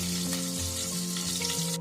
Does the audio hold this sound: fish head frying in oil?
yes